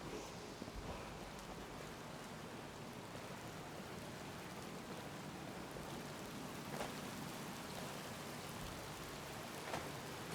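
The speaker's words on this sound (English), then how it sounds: "I'm in the waterfall." A waterfall in the video game Skyrim gives a steady, full wash of rushing water. The roar is continuous and heard alone, with no speech.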